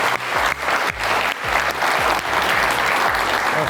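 A studio audience at a youth spring-festival game show claps loudly and steadily, dense applause throughout with no voices over it.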